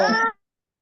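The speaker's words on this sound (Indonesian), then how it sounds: "Kucing, kucing. Iya, kucing." A cat gives a single short, clear meow that stops abruptly, with silence after.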